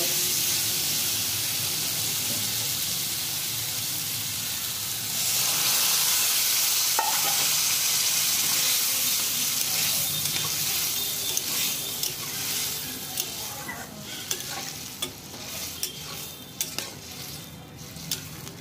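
Yellow peas for Bengali ghugni go into fried spice masala in a pan, a loud hissing sizzle swelling as they land, then repeated spoon scrapes and clinks as the mixture is stirred, close and without voices.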